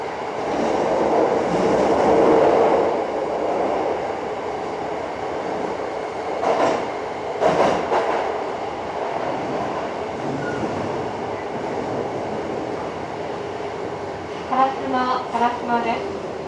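A Hankyu Kyoto Line 7300 series train with field chopper control running between stations, steady rumbling rail noise with rhythmic clatter, a loud burst midway and brief whining tones near the end.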